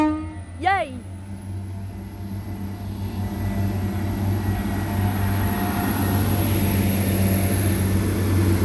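Class 175 diesel multiple unit pulling out of a Merseyside station, its low engine drone building steadily after a short horn-like toot, with people speaking nearby.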